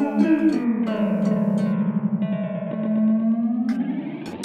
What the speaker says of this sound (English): you get this kind of detuned delay effect when it goes a bit lower on the LFO